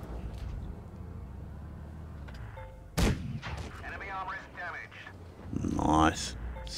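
A tank cannon fires in the video game World of Tanks Blitz: one sharp, loud blast with a rumbling tail midway, a second burst near the end, and a person talking over the in-game noise.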